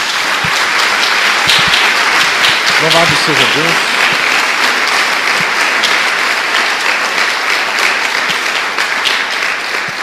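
A church congregation claps steadily and loudly for several seconds, a dense, even wash of applause, while a voice briefly calls out praise over it.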